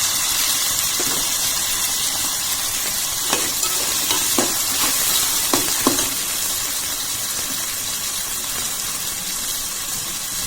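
Chopped tomatoes fry in hot oil over softened onions in a home kitchen pan for a crab curry, a steady sizzle running throughout with a few brief scraping stir strokes clustered in the middle.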